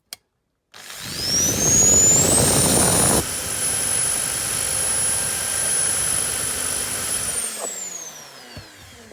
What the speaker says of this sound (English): I've taken a close look at that with my Dremel. That's like heat sealed in, so just going to have to grind that down a bit.